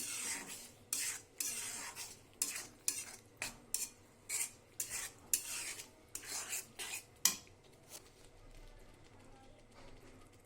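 Turmeric, chili, ginger, garlic, garam masala, cardamom, cloves, oil and onion being stir-fried in a pot for beef curry, a rhythmic series of close metallic scrapes and clinks fading to a soft sizzle, with quiet talk nearby.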